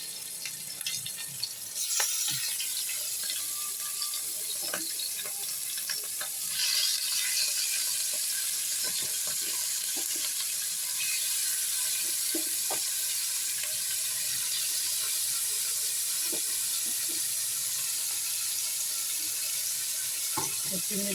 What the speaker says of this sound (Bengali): চিংড়ি মাছগুলো আস্তে আস্তে ভাজা হয়ে যাক।